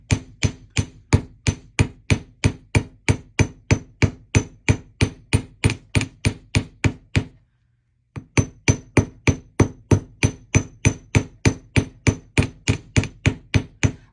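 A machined face hammer strikes wire in steady, rapid, ringing metallic blows, close and loud, with a short pause before the even rhythm resumes.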